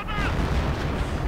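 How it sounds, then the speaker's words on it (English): Artillery strike explosions in a World War II strategy game merge into a loud, continuous rumbling barrage with overlapping booms and no clear gaps. "Artillery called in on the Nebelwerfer."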